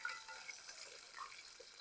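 Fish frying in oil at an outdoor cooking spot in Jamaica gives a soft, steady sizzle with light crackles, fairly faint and continuous, with no one speaking.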